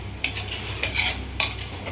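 A spoon scrapes and stirs through homemade ghee cooking down from cream in a pan, with a steady sizzling bubble underneath and a few sharper scrapes at intervals, close and fairly loud, with no talking.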